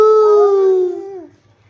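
A young child imitates a dog with one drawn-out, howl-like vocal bark that slides down in pitch, loud and close, then fades to near silence.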